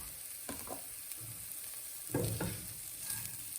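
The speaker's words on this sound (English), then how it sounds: "Cumin and turmeric going in" Cumin and turmeric sizzle in a hot pan for a vegan yellow dal, a soft steady frying hiss with a few brief stirring scrapes, no talking.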